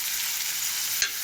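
A paste of onion, garlic, ginger, tomato and dried chili sautés with salt and turmeric in a pan, giving a steady close sizzle with one sharp utensil clink near the end and no speech.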